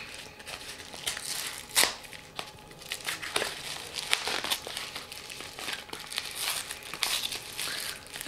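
Crinkling and tearing of a plastic mailer, with irregular bursts of rustling and ripping close by, no talking.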